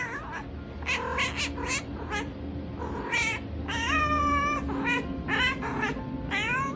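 A small cat meows repeatedly in drawn-out, wavering cries, some rising into caterwaul-like wails, close and fairly loud over a steady low background hum.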